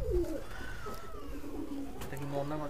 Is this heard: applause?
no